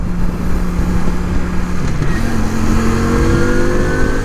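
Suzuki Intruder 250 cruiser motorcycle engine droning steadily while riding, its pitch dipping then climbing through a gear change, with heavy wind rumble throughout and no talking.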